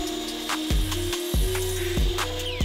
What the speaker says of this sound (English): And then we'll head to the miter saw to cut 2 out.